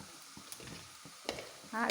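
Suhiyan, a sweet fried snack, bubbles in hot oil with a soft, close crackling sizzle and scattered pops that swell louder toward the end.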